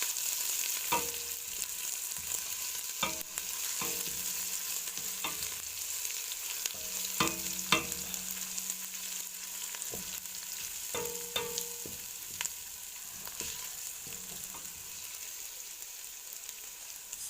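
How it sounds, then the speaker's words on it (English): Ginger and garlic fry in a pot with a constant bright sizzle, while repeated metal spoon scrapes and clinks stir through at irregular intervals. "Give it a stir."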